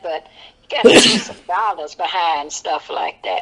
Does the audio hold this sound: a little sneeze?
yes